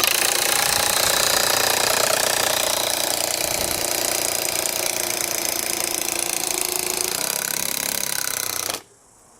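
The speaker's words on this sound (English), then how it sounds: "So, as you could hear, much slower on the impacts than the impact driver." A Makita 40V TW002G high-torque 1/2-inch cordless impact wrench drives a fastener, giving a loud continuous rapid hammering at close range that cuts off abruptly near the end.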